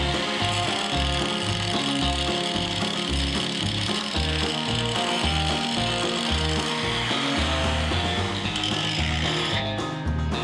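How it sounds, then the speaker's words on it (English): An abrasive grinding wheel works steadily against the metal surface of a Jeep Cherokee XJ frame, giving a loud, continuous grind with a rhythmic, pulsing low drone throughout and no voices. "we're going to switch to a grinding wheel and clean up the surface we're going to be welding the new bracket to"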